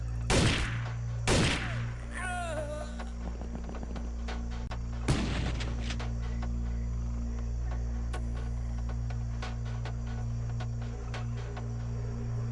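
Shotgun blasts in the turn-based game XPiratez: two sharp booming shots close together, then a third a few seconds later. Each leaves a ringing tail over a low constant hum, and a faint whistling sound follows the second blast.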